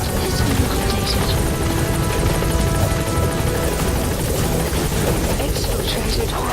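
A support helicopter arrives in the video game Metal Gear Solid V: The Phantom Pain, its rotor making a steady, loud, dense whir throughout with no break.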